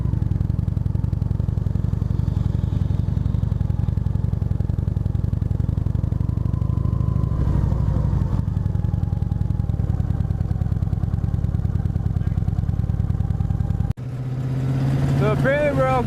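Mitsubishi Evo pulling away from a car meet, a low engine drone running under a chatty crowd, then an abrupt cut into a louder, closer stretch with voices.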